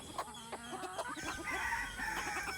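Chickens cluck and a rooster calls inside a coop, a mix of short clucks and squawks over a busy background, moderately faint with no talking.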